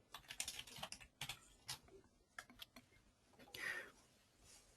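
Computer keyboard typing in a software design session, with irregular bursts of quick keystrokes and short pauses, moderately close and fairly quiet, no talking.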